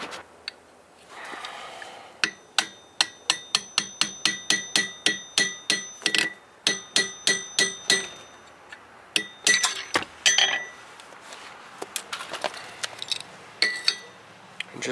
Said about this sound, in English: I'll follow it up with another punch or something to push that all the way through.